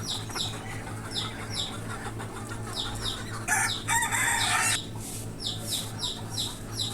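Caged hens cluck and call in short repeated bursts, with a louder burst of flapping and squawking midway, over a steady low hum.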